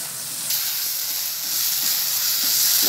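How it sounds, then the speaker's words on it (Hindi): Masala with turmeric and red chili powder fries in a pan, giving a loud, steady hiss and sizzle that jumps up sharply as the spices hit the oil and stays strong, with no talking. "अब मैं इसको ऐड करके साथ साथ भून लूँगी"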